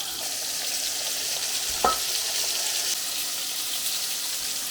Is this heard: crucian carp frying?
yes